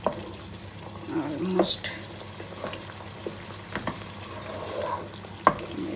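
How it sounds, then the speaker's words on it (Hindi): Softened tomatoes are pressed and scraped against the sides of a pan in hot oil, giving a soft sizzle broken by squelchy presses and utensil scrapes; a voice speaks briefly. "हम अब इन टमाटोज को क्रश करते हैं साइडों पे कर कर के ऐसे"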